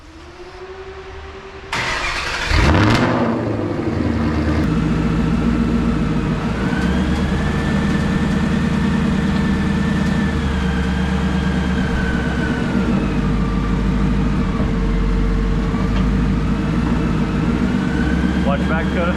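A Ford Mustang S197 engine cranks briefly and catches with a sharp burst, then settles into a steady, close, rumbling idle that continues evenly for over fifteen seconds.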